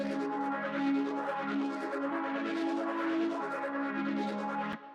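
Serum synth pad in FL Studio processed with reverb, a low cut and a high cut, sounding as a lush, sustained chord with shimmering upper texture that holds for nearly five seconds before fading and ending with a click.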